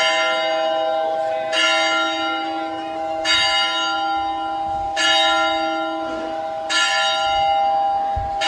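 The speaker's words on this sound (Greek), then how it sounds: "ξέρουν ότι μπορεί να χτυπήσει για αυτές η καμπάνα" A church bell tolls slowly on the island of Kalymnos, four clear, ringing strikes spaced about two seconds apart, each one sustaining and fading under the next, with no voices.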